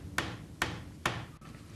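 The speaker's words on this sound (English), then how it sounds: "hammer in the pre-glued dowels" Three sharp, evenly spaced mallet blows drive pre-glued wooden dowels into the joints of a classic workbench frame, followed by a softer knock, each strike ringing briefly in a quiet workshop.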